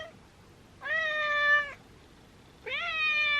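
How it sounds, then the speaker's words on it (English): A house cat meows twice, close and clear, with two drawn-out calls about a second apart in an otherwise quiet room, and no talking. "my cat's coming in."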